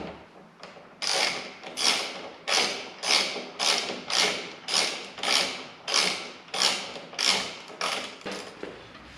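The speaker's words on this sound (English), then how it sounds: "we'll just use a hex wrench on the socket and we'll remove these." A hex wrench turns the windshield bolts on a 2018 Honda Goldwing, giving about a dozen regular close ratcheting strokes roughly every 0.7 seconds, each a loud, bright scrape. No one speaks.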